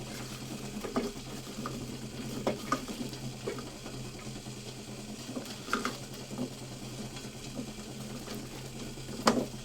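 Guava pieces being mixed by hand with kasundi mustard sauce, red chili powder and salt, giving faint, soft squelching and patting sounds with a few sharper clicks over a low steady hum.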